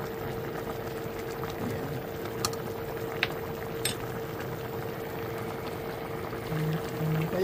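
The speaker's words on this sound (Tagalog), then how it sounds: "Lalagay ko na yung ating coconut oil." Coconut oil poured into a pan of simmering salmon paksiw with chilies, a steady soft pour and bubbling bed with a few faint clinks, heard alone without talk.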